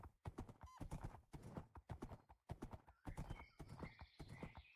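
Horse hooves clip-clopping with a loud neigh in a Minecraft-style game (Terrafirma), the sharp rhythmic hoofbeats close and busy, plus a brief whinny near the start and bright tonal game effects toward the end.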